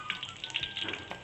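Chicken pieces frying in hot oil in a pan for teriyaki, before the sauce goes in, give a steady crackling sizzle with no voices over it.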